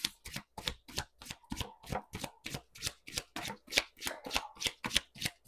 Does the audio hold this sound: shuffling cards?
yes